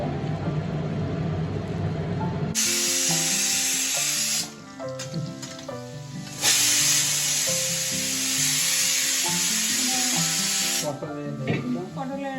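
Food sizzles in hot oil at a street food truck in Kolkata. A broad, steady frying hiss runs beneath louder tonal music for the whole stretch.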